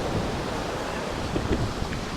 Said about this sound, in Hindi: ये समुंदर का बिफरता हुआ पानी हमें अपनी तरफ खींच के अंदर लेके जाने की पूरी कोशिश करेगा